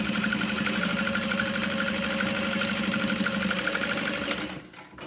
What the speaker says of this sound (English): So we're gonna sew along the bottom edge.